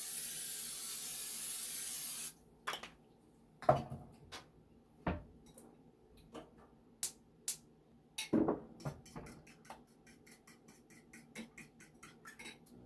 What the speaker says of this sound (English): I'm going to use my butter flavored spray